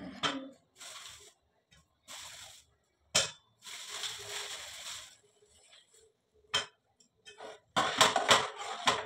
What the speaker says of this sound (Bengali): এবার গুড়টাকে পেটাই করি। হ্যাঁ, নিচে রেখে পেটাই করতে হবে।